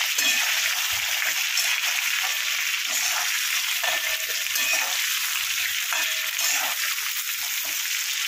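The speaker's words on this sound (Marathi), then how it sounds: "वांगी आपण तेलामध्ये मस्त फ्राय करूया, थोडा कलर चेंज झाला पाहिजे वांग्याचा" Eggplant (brinjal) pieces frying in hot oil, a steady, dense sizzle and crackle that holds close and constant throughout, with occasional light stirring.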